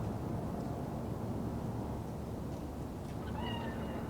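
A cat meows softly within the Cyberpunk 2077 video game, heard faintly over a steady low ambient rumble of the game environment, with no talking.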